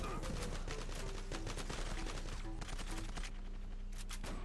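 Gunfire in a multiplayer shooter game, including an MP7, on a ship map: rapid bursts of automatic shots crackle continuously over a dense, busy game mix.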